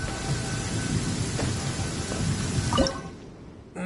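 Loud thunder rolls through a steady downpour in a desert setting in the video game Genshin Impact, a sustained rumbling roar over hissing rain that fades out near the end.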